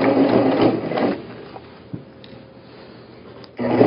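Sewing machine stitching a fabric tote bag, a close whirring mechanical burst that pauses into quiet, then starts again at the end.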